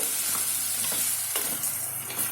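Rice sautéing in ghee and oil for peas pulao, with a steady close sizzle and occasional scraping stirs in the pan, no voices over it.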